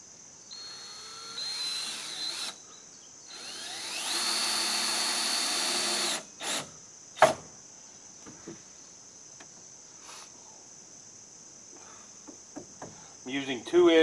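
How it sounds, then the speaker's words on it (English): A power drill drives 2-inch exterior screws into porch boards on a cabin build, two sustained whirring bursts, then a scattering of short knocks and clatters, with crickets chirping steadily throughout. "using 2-inch exterior screws, and I'm just putting some in to tack it now"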